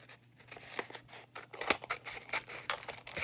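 Scissors snip through paper in a run of quick, crisp close cuts that grow slightly louder toward the end, with faint paper rustling and no talking.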